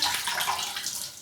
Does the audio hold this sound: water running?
yes